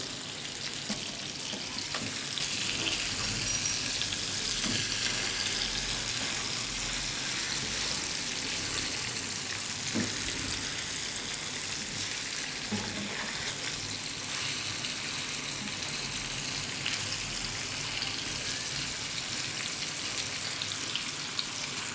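Fish pieces fry in oil in a pan for a curry, a steady close sizzle and crackle running throughout with no talk.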